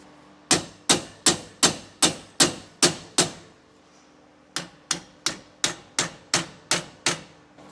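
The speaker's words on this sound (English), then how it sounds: "And once again, hammer in our new bushing." Close, loud hammer strikes pound a new suspension bushing into a trailer axle, a fast run of eight even blows, a short pause, then eight more at the same pace, part of a Dexter E-Z Flex suspension install.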